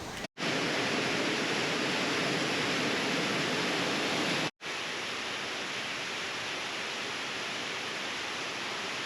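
A waterfall near Kawazu roars as a steady, broad rush of falling water, loud and close, with two brief dropouts in the noise.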